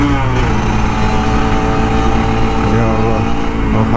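A Kawasaki Ninja RR 150, an older two-stroke sport motorcycle, revs loudly and close by on a morning commute, a sustained buzzing engine note that climbs and holds without a break.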